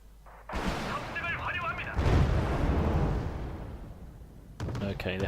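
Artillery and gunfire in the war strategy game Wargame Red Dragon, dense rumbling explosions and firing bursts that swell and fade, loud and continuous, ending in sharper cracks.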